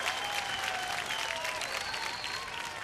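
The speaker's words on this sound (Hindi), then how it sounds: "जोरदार तालियां" Studio audience on a Hindi family game show breaks into loud, sustained applause, dense clapping running evenly throughout with faint cheering tones over it.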